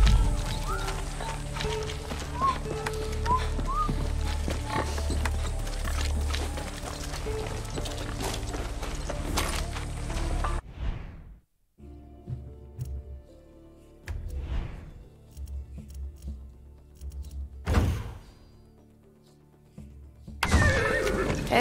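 Horse in the Far Cry 6 video game, loud neighing and clip-clopping hooves with busy game sounds for about ten seconds, then a quiet stretch with scattered thuds and another burst of noise at the end.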